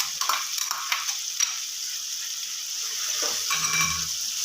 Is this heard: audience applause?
no